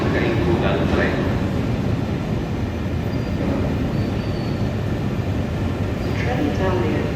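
At Bologna Centrale station, a Trenitalia Frecciarossa high-speed train rumbles loudly and steadily as it arrives, with a station announcement voice playing over it.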